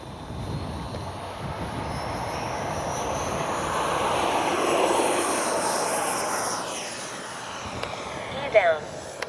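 A distant RC F-15 model jet with a 64mm ducted fan whines and swells as it takes off, its rising and fading rush peaking midway before a brief nearby clatter at the end.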